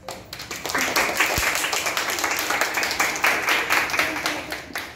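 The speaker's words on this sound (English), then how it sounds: "Claps." An audience claps steadily at a dance academy performance after a sung "We Shall Overcome," the applause dense and sustained for the full stretch with scattered individual claps standing out.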